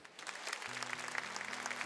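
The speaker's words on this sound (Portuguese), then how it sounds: "Pode aplaudir para valer." A church congregation at a Thursday Eucharist service applauds, a faint, steady wash of many hands clapping together at some distance, with a low tone humming underneath.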